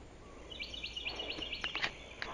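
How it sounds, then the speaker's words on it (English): Small birds chirp faintly outdoors along a roadside by a garden, a quick run of high, thin tweets over a low background hum. "You hear those birds?"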